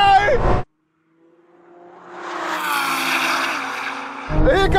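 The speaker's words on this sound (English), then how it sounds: "Here comes that GTR!" A 1000hp Nissan GT-R drag car accelerates on a drag strip as a rising engine roar builds from far to loud and sweeps past. Excited voices of the crowd come before and after it.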